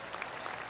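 Brief, soft golf clap from a virtual crowd on a PGA Tour 2K21 course, a short patter of polite clapping lasting under a second.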